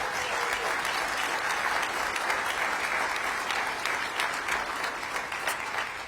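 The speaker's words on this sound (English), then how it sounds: "Give DMPED a big round of applause." Sustained applause from an audience honoring the DMPED economic development team at a March Madness event, a dense steady wash of clapping lasting several seconds without a break.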